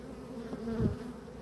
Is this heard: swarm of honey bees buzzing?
yes